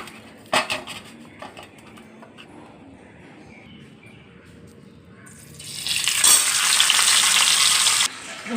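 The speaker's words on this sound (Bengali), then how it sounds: "মাছের মাথাটাকে আমাদের ভেজে নিতে হবে" A fish head rubbed with salt and turmeric fries in oil. After some quiet pan clatter, a loud, close, hissing sizzle rises and holds for a few seconds before cutting off.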